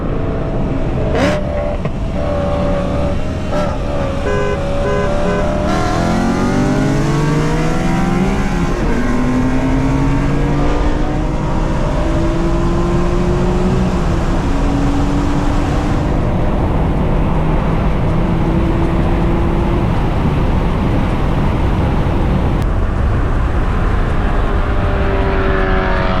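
A BMW E92 M3 engine roars loudly through repeated hard accelerations, pitch climbing through the gears with brief shift dips, close and dominant throughout with steady road and wind noise beneath.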